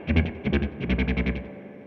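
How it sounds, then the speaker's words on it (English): Guitar played through a Boss SY-1 synth pedal into an amp with its reverb switched on, giving a run of quick rhythmic synth-like notes with an echoing reverb tail, loud and close, with no talking. "Now you hear the reverb, right? Because that's going into the amp."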